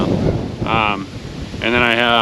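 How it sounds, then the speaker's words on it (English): Strong outdoor wind gusting against the microphone, a steady low buffeting rumble throughout with two brief bursts of higher tonal whistling. "Yeah, see, it's getting real windy now."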